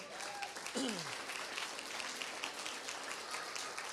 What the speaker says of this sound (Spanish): Ahora sí, dele un fuerte aplauso al Señor.